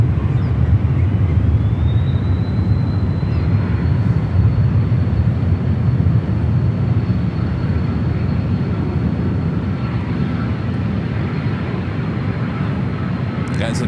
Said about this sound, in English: Looks like that United 777 heading over there to 28 right for departure